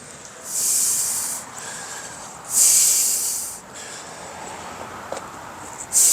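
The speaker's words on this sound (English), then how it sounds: "I heard a little sizzle when I dumped that in there" Bursts of harsh sizzling hiss as moisture hits molten metal, rising and falling twice over a low background rumble, with a faint click near the end.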